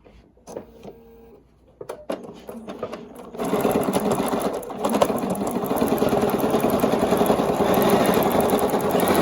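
A sewing machine quilts a Georgia Beauty quilt with rulers. A few sparse stitches are followed by a loud, steady run of rapid stitching that continues to the end.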